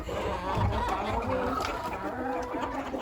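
A flock of backyard hens clucks and murmurs excitedly over cracked corn in winter, a busy overlapping chatter of close, moderately loud calls that continues throughout.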